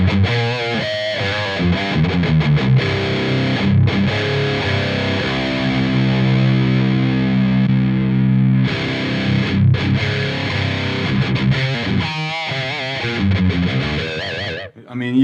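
A heavily distorted metal electric guitar plays through a Mesa/Boogie JP-2C+ John Petrucci signature amp, with chugging palm-muted riffs and sustained chords, loud and up front, alternating with stretches where someone talks over or between the playing.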